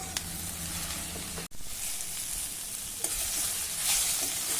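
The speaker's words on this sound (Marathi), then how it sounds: "कोथिंबीर घालूया आणि पुन्हा आता हे छान परतून घेऊ" Spices and fresh coriander sizzle steadily in a pan as they are sautéed, a continuous close frying hiss with a brief break partway through and faint stirring, no voices.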